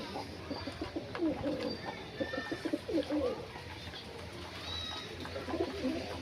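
Fancy pigeons kept at home cooing, soft low repeated coos close by in a steady rhythm over faint background noise.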